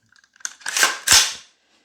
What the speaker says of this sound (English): We're going to charge the charging handle.